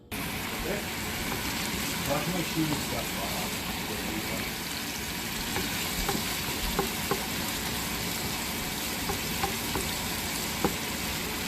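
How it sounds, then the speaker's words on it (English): A pot of spicy pork bone stew ingredients sizzles steadily and loudly, a continuous frying hiss with occasional small pops and spits, and no voices. "we'll wait until it's sizzling."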